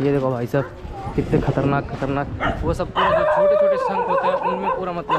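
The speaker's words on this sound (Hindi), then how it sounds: "ये कुत्ता बहुत भौंक रहा है" Dog barking repeatedly in a busy temple-town market in Rameshwaram, short yips and barks scattered through, mostly under someone talking close to the microphone.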